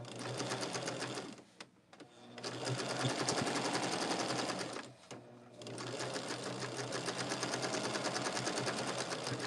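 A sewing machine stitches down quilt sashing in steady, rapid runs, pausing twice briefly before resuming its close, continuous whir.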